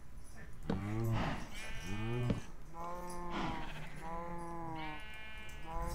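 Cows in Minecraft, played with the MagiTech modpack, moo in several drawn-out, close calls. One lowing call follows another with no speech over them.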